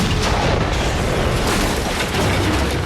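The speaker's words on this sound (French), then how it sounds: "les pets collectifs d'un gang de moutons causent une explosion fulgurante de la bergerie où ils résident" Film scene from the comedy Black Sheep in which a sheepfold blows up, a continuous loud, dense blast and rumbling roar with debris-like crackle sustained throughout without a break.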